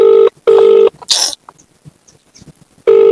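Telephone ringback tone on a call to a family member, two loud steady beeps before a pause and a third at the end, with a short burst of noise and faint scattered sounds between them.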